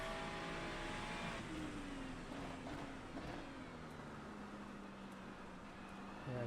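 A GT3 race car in the iRacing sim at Spa in the rain holds a steady engine drone with gear-change pitch sweeps, close and continuous, with no talk over it.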